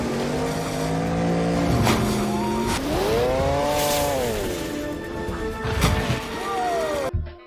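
A four-stroke jet ski engine in a film scene revs up and down in rising and falling whines, loud and close, with sharp splashy bursts between passes before cutting off abruptly.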